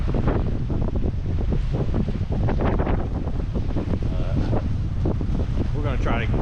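Steady wind buffeting the microphone at a lake campsite on an island near Dreher Island, Lake Murray, South Carolina, a constant broadband rush running the whole time with a voice talking over it.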